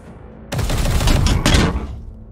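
Gunfire in W40k: Chaos Gate - Daemonhunters, a sudden loud burst of shots starting after a quiet start, with a second strong hit about a second later, then fading into a short tail.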